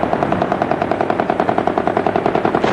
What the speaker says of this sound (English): There was small arms fire for a while, then silence.